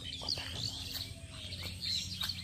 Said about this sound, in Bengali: দেখছ শালিক পাখি